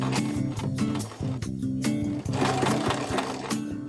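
A sewing machine stitches dress pieces along a straight seam, its rapid mechanical chatter running close and loud in short bursts with brief pauses between runs.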